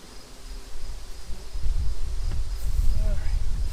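Bees at a beehive hum in a low, steady buzz that grows louder and denser over a few seconds, heard close up with a faint outdoor background.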